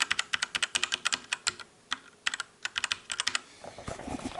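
Someone types on a Drevo Gramr V2 compact keyboard with linear black switches, producing a brisk, uneven run of crisp keystroke clacks, close and fairly quiet, that ends in softer shuffling noise.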